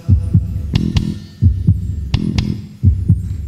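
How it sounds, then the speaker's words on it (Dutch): A steady, loud heartbeat thumps in a regular double-beat rhythm, about three beats, at a live concert, with a low hum underneath and no talking. "Hoor je de hartslag?"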